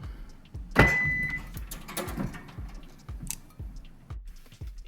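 A Toyota Camry compartment unlocks by key fob with a sharp latch click, followed by a run of quiet, evenly spaced ticks close by, with no talking.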